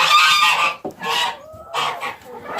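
A goose honks loudly and close by in three repeated nasal blasts with brief pauses between them, indoors in a feeding area on a snowy May day.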